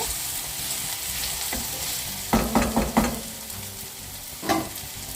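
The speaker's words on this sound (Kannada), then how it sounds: "ಮೀಡಿಯಮ್ ಫ್ಲೇಮಲ್ಲಿ ಇಡಿ. ಇನ್ನು ಸ್ವಲ್ಪ ಫ್ರೈ ಆಗಬೇಕು." Bitter gourd gravy with tomato frying in a pan on medium flame, a steady close sizzle broken by a few louder scraping stirs in quick succession near the middle and one more toward the end, no voices.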